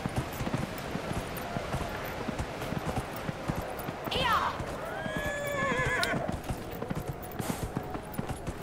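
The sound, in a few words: horse neighing and clip-clopping in video game Dragon Age: Inquisition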